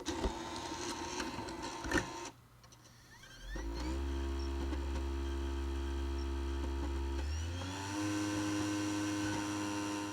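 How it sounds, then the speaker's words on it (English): A game console disc drive spins up with a whir, then settles into a steady loud mechanical hum with a rising pitch shift near the end, no talking. "you can hear that disk drive running right there"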